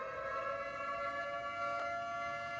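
An air raid civil defense siren wails with a steady, sustained multi-tone howl, moderately loud and continuous with no pauses.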